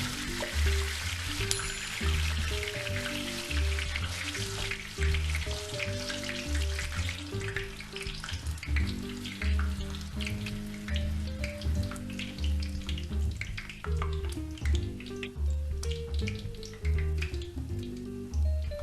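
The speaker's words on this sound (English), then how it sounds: "it is perfect for scooping the puff puff batter into the hot oil" Puff puff batter spits and crackles as it frys in hot oil for a peppered Nigerian snack, a dense continuous sizzle with scattered sharp pops, close and loud throughout with no voices.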